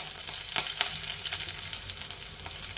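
Mustard seeds, cumin, crushed garlic and curry leaves sizzle in hot oil for a bottle gourd curry, a steady close hiss broken by sharp crackles and pops from the seeds.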